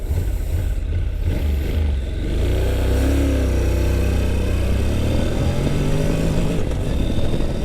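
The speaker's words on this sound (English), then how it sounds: "we're going to give you guys a little 0 to 60 on this Honda NC700 here" Honda NC700X motorcycle accelerating hard from 0 to 60, a loud steady engine roar climbing through the gears with rising pitch under heavy wind rush, no talking.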